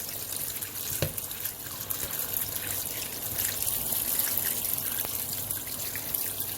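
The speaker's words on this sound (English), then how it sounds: "I am going to rinse this out with just cold water." Cold tap water runs steadily into a sink while rinsing tripe, a continuous splashing trickle with a few sharper drips, close by and with no voices.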